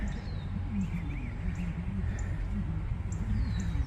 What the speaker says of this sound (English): there is a nest that has baby robins in it.